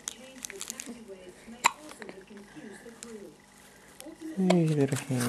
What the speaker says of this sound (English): Look at the hiccups.